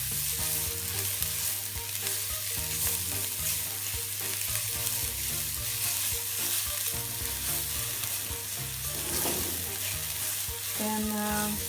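Ten garlic cloves fry in three tablespoons of cooking oil and are stirred, giving a steady sizzle with occasional scraping sounds and an ongoing low hum beneath it, without speech.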